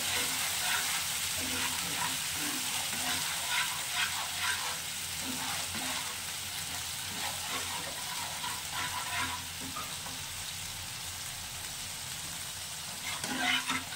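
Poppy seed paste sizzles and crackles steadily in hot oil while being stirred, a dense close frying hiss with occasional spatula scrapes, cooked as the base for a pabda fish curry.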